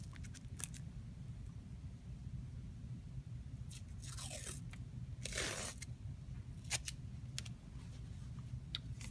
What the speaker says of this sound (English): and then I'm going to tape the top.